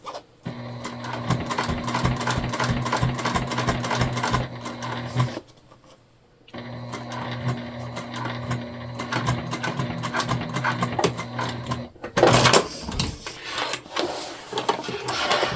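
A sewing machine top-stitches a tote bag in two long runs of rapid, even needle clatter, pausing briefly between them, followed by a short rustle of fabric being handled.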